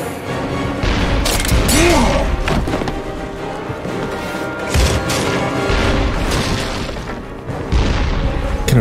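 Explosions and crashing destruction in Captain America: Super Soldier, with heavy booms and smashing impacts over a rumbling game soundtrack, loud and continuous with no talk.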